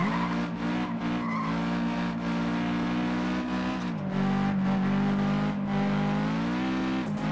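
A car engine in the FlatOut 2 racing game drones with a sustained roar while the tires squeal and skid through a turn, the pitch dipping and climbing again, loud and continuous with no voices.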